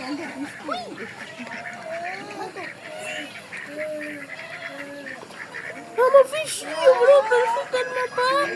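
A group of ducks gives repeated nasal quacks, some close and loud and others farther off, building into a busier burst of calls near the end while people talk nearby.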